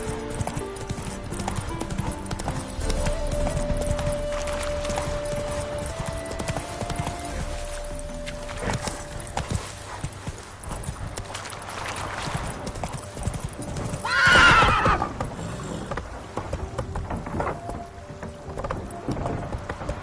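Hooves of the horse Roach in The Witcher III clip-clop steadily at a gallop, mixed with game music and ambience, with a brief whoosh near the end.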